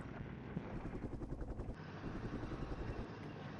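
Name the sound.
helicopter from a video game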